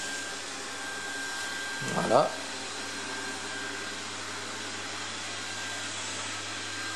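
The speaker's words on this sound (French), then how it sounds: "on voit que l'aspirateur met à jour le plan automatiquement quand il se déplace" An ANNEW robot vacuum cleaner runs with a steady, even whirring hum throughout, and a voice speaks briefly near the start.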